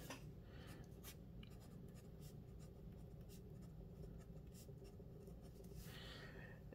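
A fine liner pen writes on HP Premium 32lb copy paper, making soft, close scratching strokes with brief rustles, faint and continuous.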